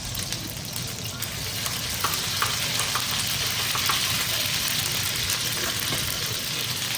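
Ginger and chili paste sizzles and fries in hot oil in a pan, a steady, dense crackling hiss that goes on throughout with no voices over it.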